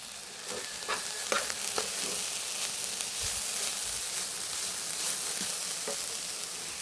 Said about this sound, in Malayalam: ഞാൻ വൻപയർ ഇങ്ങോട്ട് ഇടുവാണ്. കുക്കറി വേവിച്ച കേട്ടോ, ഉപ്പിട്ട് വേവിച്ച.